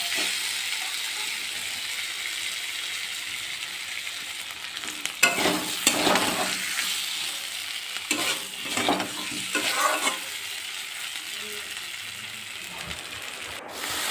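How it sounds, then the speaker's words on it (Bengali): Spices, salt and fried pointed gourd are sautéed for a Bengali fish jhol: a steady pan sizzle runs throughout, with a cluster of scraping stirring strokes in the middle, close and moderately loud. "একটু নেড়ে চেড়ে কিছুক্ষণ কষিয়ে নেব।"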